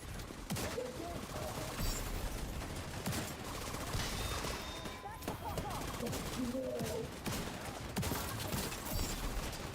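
Rapid shotgun and gunfire shots crackle in a game firefight from The Division 2, repeated bursts layered over constant background noise and a talking player.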